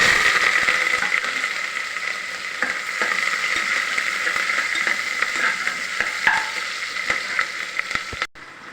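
Cumin, mustard seeds and fenugreek crackle and splutter in hot oil with curry leaves and onion, a dense close sizzle scattered with sharp pops and stirring scrapes, cutting off abruptly at the end.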